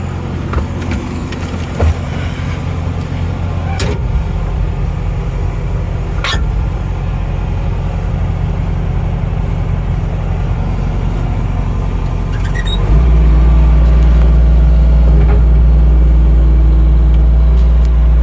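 A 2021 GMC Sierra AT4 1500 pickup on 24x12 wheels with 2-inch spacers rumbles along with a loud, steady engine and road roar and a few brief squeals, its low drone growing deeper and heavier toward the end.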